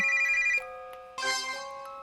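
A video game phone plays a video call ringtone, a bright melodic electronic chime sounding twice with a short pause between, clear and alone.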